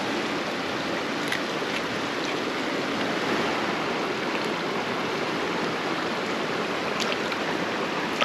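A creek in the Idaho wilderness flowing steadily, a constant close broadband rush of moving water with no pauses and no voices.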